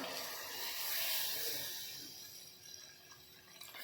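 Warm water poured into chicken in a hot pan makes a soft, rushing hiss of steam that swells, then gradually fades, with a faint clink near the end.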